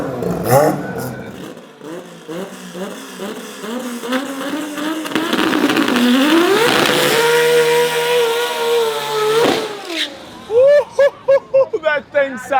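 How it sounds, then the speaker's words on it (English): A drag racing car with an RB30 billet block engine roars at full tilt, loud and near, its pitch climbing, holding a sustained howl, then dropping into sharp, rapid popping bursts. "the RB, the sound of an RB at full tilt is just, it's music to your ears if you're a car guy"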